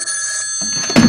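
A telephone rings in a podcast studio setting, a short burst of electronic trilling tones that swells louder toward the end, close and without speech over it.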